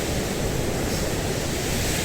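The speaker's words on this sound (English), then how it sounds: "these two waterfalls that are roaring with the power of nature." Two waterfalls on a remote Scottish trail between Blair Atholl and Red House Bothy roar as a dense, steady broadband rush heard from a bridge, loud and unbroken with no talk.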